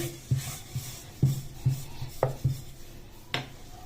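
Bottle gourd chapati dough rolled out on a board, soft repeated rubbing and knocking strokes at an uneven rhythm, close and fairly quiet.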